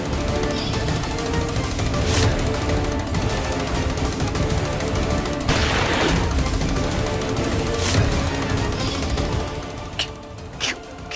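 Gunfire on a Hindi TV drama set: several sharp gunshot cracks spread across the scene, with a louder burst mid-way and quick shots near the end, over a busy dramatic background.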